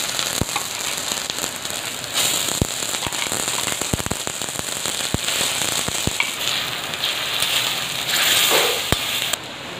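Ginger garlic paste hitting hot oil over browned onions, a dense continuous sizzle and crackle with sharp spitting pops scattered throughout, loud and close, no speech.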